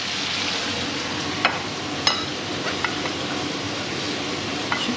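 Chicken gizzards and chili are stir-fried in a wok, a loud continuous sizzle with occasional sharp metal clicks of the spatula scattered through it, close by and without talk.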